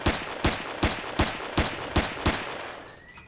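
Seven evenly spaced gunshots ring out in the video game Empyrion Galactic Survival, fired at a dinosaur, each a sharp loud crack with a short tail, slowing to quiet at the end.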